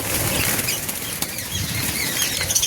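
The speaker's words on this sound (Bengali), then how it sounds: "পাখিগুলো একটু ভয় পেয়ে গেছে এখানে সাইডে অন্য পাখি চলে এসছে আর সেই জন্য এরা একটু উড়াউড়ি করছে" Birds flutter and flap their wings in an enclosed space, a busy rustling flurry close by with a few sharper wingbeats.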